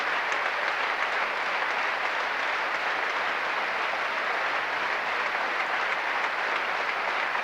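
A large crowd at a 1984 Queen's Park Rangers v Manchester United match applauds in a dense, even roar of clapping that holds steady for several seconds, with no voices above it.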